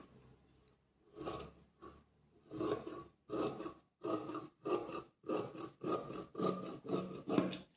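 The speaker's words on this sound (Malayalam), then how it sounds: "നമുക്ക് ഫ്രണ്ട് പീസ് കട്ട് ചെയ്തെടുക്കാം." Scissors cut through fabric for the front piece of a frock kurti in a steady run of about nine crisp, rasping snips, close and fairly loud, with no voices.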